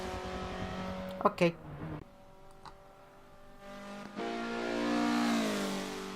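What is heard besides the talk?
Mazda race car driving a lap at Road Atlanta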